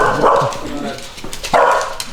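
A dog in an office gives two loud, close barks, one near the start and another about a second and a half later.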